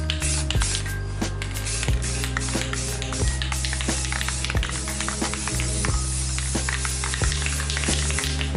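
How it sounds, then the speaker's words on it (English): A steady hiss of spray paint from a nearby aerosol can, continuous and even, with faint ticking and clicks underneath. "I just spray really lightly, because you could do several coats."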